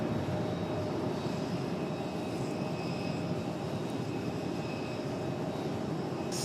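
An Aer Lingus airliner's jet engines at Raleigh-Durham International Airport give a steady, distant roar that holds evenly throughout, with no voices.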